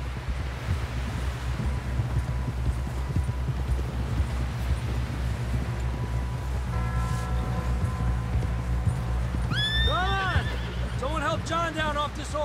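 Horse in Red Dead Redemption 2 whinnies loudly near the end, a rising, shaky neigh over steady hoof clip-clop and wind rumble, with a short tonal game cue and voices in between.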